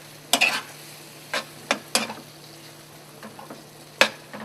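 Strawberry sauce being stirred in a pan for strawberry crepes, a handful of irregular spoon scrapes and clinks against the pan over a faint bubbling hiss, close and quiet, no voices.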